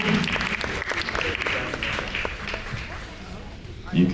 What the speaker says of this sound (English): a big round of applause for Spark Productions